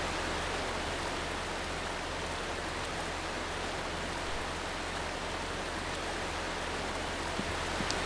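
Waterfall in the stealth video game Ghost Thief, a steady broadband rushing roar that holds even and continuous throughout with no pauses.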